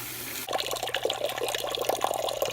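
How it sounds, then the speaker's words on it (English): A small plastic model-kit part is dropped into hot water, making a sudden splash followed by bubbling, sloshing liquid sounds under a steady low hum, close and fairly quiet. "I'll just put it in the water,"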